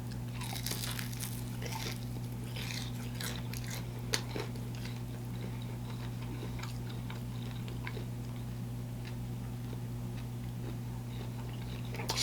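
Crunchy Nashville hot air-fried chicken drumsticks being bitten and chewed close up, with a steady run of crisp crackles and crunches over a low background hum.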